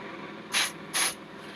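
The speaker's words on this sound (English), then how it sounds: "just give that a little spray." Two short, sharp hisses of an aerosol lubricant sprayed onto the cog of a classic Model Power steam train engine, close and distinct against a quiet background.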